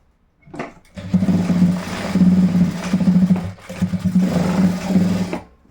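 An electric sewing machine stitches cloth for boys' school uniform shorts, a close, loud, steady whirring hum in several sustained runs with brief pauses between them.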